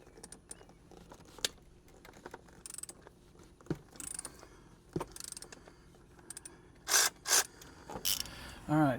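A socket wrench ratchets and strains against tight 15 mm and 16 mm bolts on the water pump of a 2013 Jeep Wrangler JK, with scattered mechanical clicks building to a few loud, close bursts near the end.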